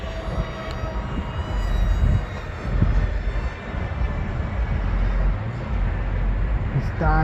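A Dee RC A290 micro F16 RC plane flies in a continuous buzzing whine that swells and fades as it passes, with wind-like broadband noise throughout.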